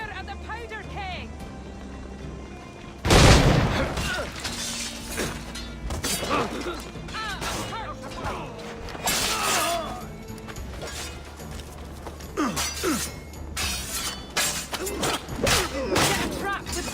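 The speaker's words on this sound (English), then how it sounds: "Fire at the powder keg!" A heavy powder keg blast in the pirate game Assassin's Creed IV: Black Flag bursts loudly about three seconds in, followed by crashing, cracking debris and ongoing battle clatter under shouting game voices.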